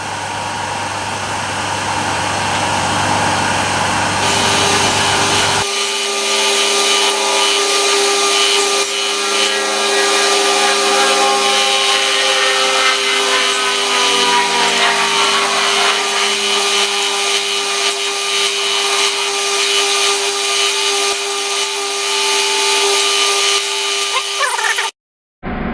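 A power tool grinds steadily for about twenty-five seconds, a loud continuous abrasive whir with a sustained tonal whine, its pitch shifting slightly as the load changes, then cutting off abruptly near the end.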